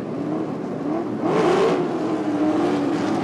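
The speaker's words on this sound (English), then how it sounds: "8 V8s, and way at the back of the field is Alan Grice in the BMW 635 CSI as the revs rise" A field of V8 Group C touring cars, including a BMW 635 CSI, revs on the starting grid at the 1981 Adelaide race. The loud, dense engine roar swells and climbs in pitch partway through, with no talking.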